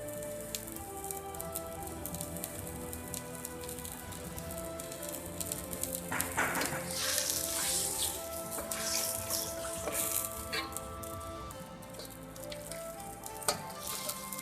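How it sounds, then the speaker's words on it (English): Vegetable broth seasoned with salt, pepper and soy sauce simmers in a pot, a steady wet bubbling and crackle that swells midway, with no voices. "Let it simmer for next 2 minutes."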